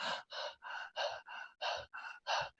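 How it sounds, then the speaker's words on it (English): Open-mouth shallow breathing demonstrated in eight quick, evenly spaced rasping breaths, close and fairly loud, with short silent gaps between them and no talking. "Check yourself if you're open mouth breathing or shallow breathing"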